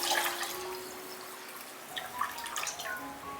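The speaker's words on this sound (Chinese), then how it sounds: "再加入适量清水" Clean water is poured into a pot of washed millet, mung beans and small chunks of sweet potato, making a soft, steady splashing trickle with a few brighter drips near the end.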